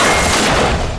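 Machine gun in the RAGE video game firing a dense, loud, continuous burst of rapid shots with heavy booming impacts filling the whole moment up close.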